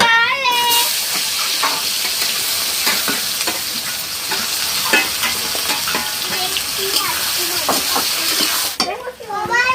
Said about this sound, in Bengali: দিয়ে দিচ্ছি জিরে, গোটা জিরে আর গোটা শুকনো লঙ্কা দুটো। পেঁয়াজ কুচোনাগুলো দিয়ে দিচ্ছি।